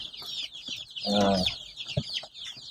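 Two-week-old chicks, a mix of Rhode Island Red, Black Australorp and Isa Brown, peep continuously in high chirps, with a louder burst of clucking in the middle and no talk.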